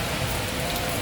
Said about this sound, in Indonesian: di kota Banda Aceh memang diguyur hujan dari semalam mulai jam 10 malam